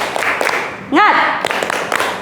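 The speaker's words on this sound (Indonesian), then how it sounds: "Tepuk semangat" A class of schoolchildren claps a short rhythmic spirit clap, with sharp claps spread through the room, mixed with children's voices and one brief rising sung or chanted call.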